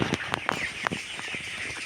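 Chickens cluck in short, sharp bursts inside a raised platform coop, a few distinct calls close by over a steady airy background.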